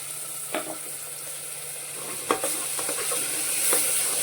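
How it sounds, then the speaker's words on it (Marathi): A ground paste of ginger, garlic, green chili, coriander and tomato frying in a pan, a steady sizzle broken by a few sharp stirring knocks and scrapes, no talking. "आता टाकू आपण वाटण हे अद्रक लसूण मिरची कोथिंबीर आणि अर्धा टॅमॅटो घेतलेला आहे"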